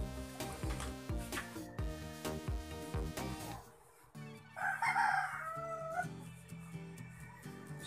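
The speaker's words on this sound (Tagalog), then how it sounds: "kasi maraming manok dito" Roosters crowing close by among many chickens in a rural yard during electric fan repair work, long rising calls over a busy backdrop of clucking and tonal background sound.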